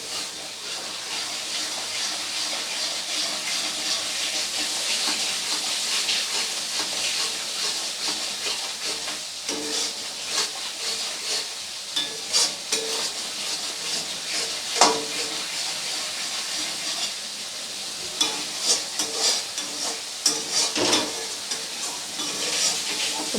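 Bengali masala spice paste cooking in oil for a doi potol curry, a soft continuous hiss with intermittent stirring scrapes and taps, fairly quiet and without talk.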